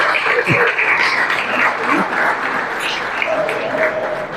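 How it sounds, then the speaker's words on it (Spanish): Audience applause at a Barranquilla automotive gathering recalling the origins of street racing, a steady broadband clapping from a crowd with brief voices and faint tones mixed in. "Aplausos, aplausos."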